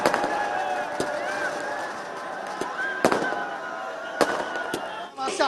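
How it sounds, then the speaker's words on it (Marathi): Fireworks and firecrackers go off in Dadar during street celebrations of Team India's ICC Champions Trophy win, sharp cracks popping at irregular intervals over a constant hum of crowd noise and whistling bursts. "फटाक्यांची आतषबाजी केली जाते"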